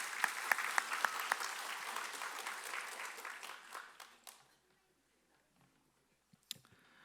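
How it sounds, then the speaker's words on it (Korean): During a Sunday morning church service, the congregation claps for the broadcast team. The applause is moderate with a few sharp individual claps, then dies away after about four seconds into near silence broken by one late click. "우리 수고하신 우리 방송팀 박수 한번 주시겠습니다"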